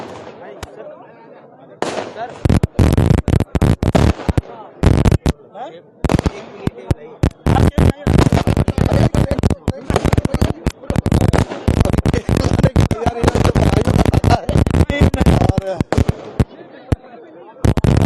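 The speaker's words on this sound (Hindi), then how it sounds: "आतिशबाजी ने वातावरण में एक अलग महक छोड़ दी है" Fireworks and firecrackers at a political rally celebration burst in rapid, irregular volleys of sharp cracks and pops, loud and close, with crowd noise beneath.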